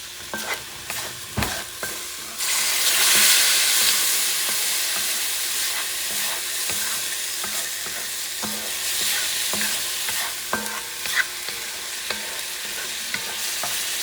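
Homemade tomato sauce and lobster stew stirred in a pot, with a loud continuous sizzle and hiss that swells after a few seconds, overlaid by scattered scraping clunks of the spoon against the pot and no speech.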